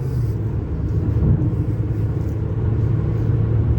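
A 2016 Audi A6 Quattro with a 2.0 diesel engine accelerates at full throttle, a steady, heavy low rumble heard from inside the cabin, loud and continuous with no speech.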